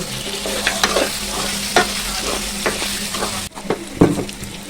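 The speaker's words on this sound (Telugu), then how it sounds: "ఉల్లిపాయ టమాటా పచ్చిమిర్చి కొంచెం కారం వేసుకొని కలుపుకున్నాము" A spoon stirs onion, tomato, green chilli and chilli powder frying in a pan for chicken biryani, with close, loud scraping strokes over a steady sizzle and a brief pause near the end.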